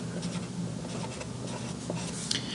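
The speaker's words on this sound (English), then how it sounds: "I'm going to write the word average" A word being written on a board, soft scratchy pen or chalk strokes in short bursts over a steady low room hum.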